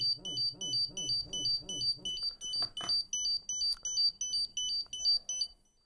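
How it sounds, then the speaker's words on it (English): A remote sampling pump's audible alarm sounds a rapid repeating electronic beep pattern, regular high chirps pulsing steadily for several seconds over a low throbbing pump tone that stops partway through. "Now my instrument went into an alarm as it was expected to do so."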